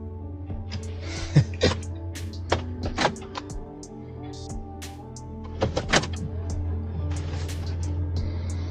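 An electric motor on a wheelchair-accessible Toyota Sienna (VMI conversion) hums steadily as it moves up, with scattered clicks and thumps over it inside the van.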